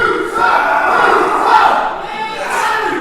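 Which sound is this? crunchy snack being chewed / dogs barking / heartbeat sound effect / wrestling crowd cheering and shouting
wrestling crowd cheering and shouting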